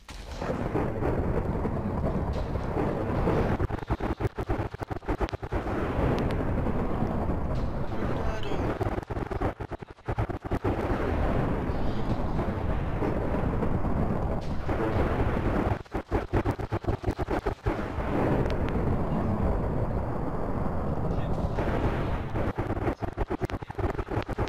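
Electrical bomb explosion in a Minecraft mod game, a loud, continuous rumbling roar of blasts and crackling noise with brief dropouts, dense and booming throughout.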